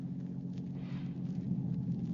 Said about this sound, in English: heard the first sound of thunder in the air